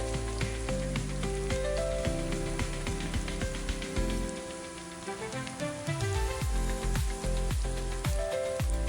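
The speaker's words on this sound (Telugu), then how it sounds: "ఒక్కొక్క ఫిష్ పీస్ని చిన్నగా వదిలి మంచిగా డీప్ బాత్ చేపించేయండి" Fish pieces deep fry in hot oil for a crispy Andhra-style fish fry, with a steady crackling sizzle under background music.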